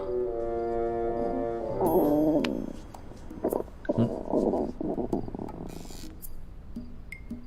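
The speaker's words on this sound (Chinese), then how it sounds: "是我肚子叫。" A hungry young woman's stomach growls in a Chinese period drama. It is a long, low, drawn-out rumble, followed by rustling and faint voices.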